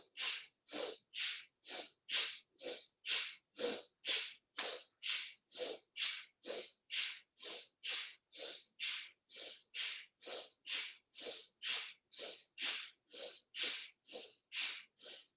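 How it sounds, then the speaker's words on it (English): About two dozen forceful breaths pushed in and out through the nose come in a fast, even rhythm of sharp huffs, close and distinct, with nothing else heard. "to breathe in and out through the nose"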